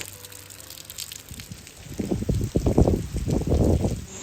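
Rainwater pours over indoor plants such as a fiddle leaf fig and rubber plant, starting faint and swelling after a couple of seconds into a close, rushing gush of water.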